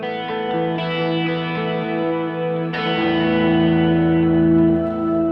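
Sustained electric guitar chords through a reverb pedal's shimmer setting, washed in lush, shimmering reverb with bright octave-up overtones, ringing out alone and swelling again midway.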